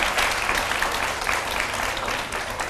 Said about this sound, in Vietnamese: cho một tràng pháo tay nữa để cho cô dâu bớt run rồi